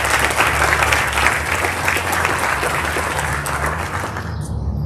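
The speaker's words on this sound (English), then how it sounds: "Let's have a round of applause for our varsity Y team." An audience at a school end-of-year ceremony applauding the varsity team, sustained dense clapping that continues throughout and thins slightly at the end.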